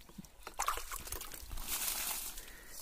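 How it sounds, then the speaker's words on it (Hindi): Water is poured onto a young mango sapling outdoors, giving a near, uneven splash and trickle that swells and then settles into a steadier flow. "ये देखिए, हम इस आम के पौधे को पानी पिला रहे हैं।"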